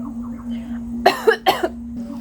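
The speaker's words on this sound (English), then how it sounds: "and then I just had a coughing fit." A few sharp coughs in quick succession, close by, over a steady low electrical hum.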